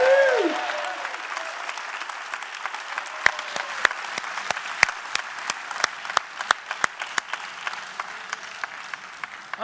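A church congregation applauds right after a baptism, a long, steady round of clapping from many hands with a brief voice at the start and crisp individual claps throughout.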